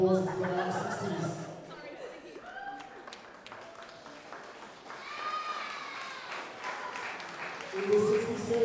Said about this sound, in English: Round of applause for our 60s.